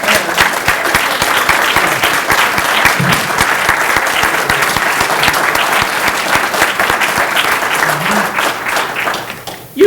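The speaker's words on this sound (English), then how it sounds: "We are clapping for you." A room full of people claps steadily and loudly for a celebration honoring someone's family, dense sustained applause with a few faint voices underneath, tapering off at the very end.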